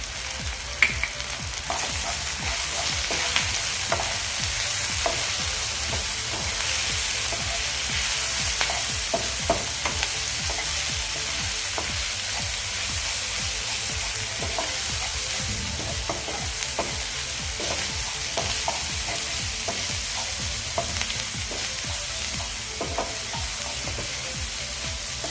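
A tomato and onion masala with turmeric, garam masala and red chili powder fries and sizzles steadily in a pan while being stirred, a continuous close crackle with scattered scraping taps throughout.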